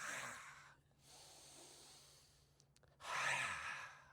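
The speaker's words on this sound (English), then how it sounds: "here we can growl, like go with a Punjab breathing" Throaty growling breaths during a qi gong squat, two raspy exhales from the throat with a quieter breath between them, close and intimate.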